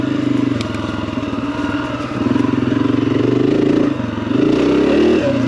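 A four-wheeler ATV engine runs close and loud through dirt ruts, its throbbing, steady drone rising and dipping in pitch as the throttle changes, with light rattling of the machine over the rough ground.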